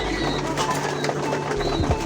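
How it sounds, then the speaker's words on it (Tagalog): Pet racing pigeons in an open loft in the Philippines give soft, low coos near the end of a short stretch of quiet background noise. "nagkaroon tayo ng mga alagang kalapati"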